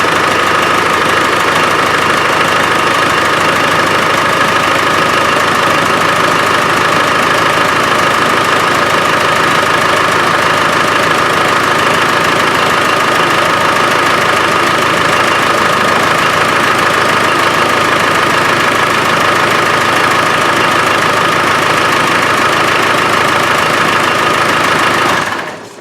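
A Land Rover 300Tdi diesel engine idles steadily in a workshop, a constant loud clattering rumble with even knock that holds unchanged for about twenty-five seconds before cutting off abruptly.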